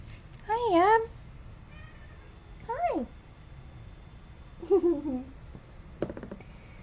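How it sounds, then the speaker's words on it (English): A cat meowing indoors, several separate short meows spaced a few seconds apart, close and fairly loud over a quiet background, with someone speaking softly. "Little kitty cat."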